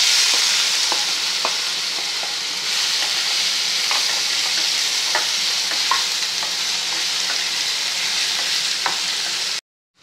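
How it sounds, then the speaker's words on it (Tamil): Cut apple pieces sauté in ghee in a pan while being stirred for apple halwa, giving a steady close sizzle with scattered light clicks of the spoon. No one speaks, and the sound stops abruptly just before the end. "அடுத்து இன்னும் கொஞ்சம் நெய் விட்டு இதுலேயே நம்ம இந்த இது இருக்கு பாருங்க, ஆப்பிள், அந்த கட் பண்ண ஆப்பிளை அதையும் வதக்கி எடுத்துக்குவோம்"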